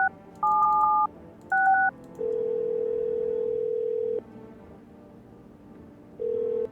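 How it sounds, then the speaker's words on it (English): Touch-tone keypad beeps of a phone dialing a neighbor's number inside a horror video game, a quick burst of dual-pitch tones followed by a long steady dial tone that cuts off, then returns briefly, clear with no talk. "What happens if I call my neighbor's phone?"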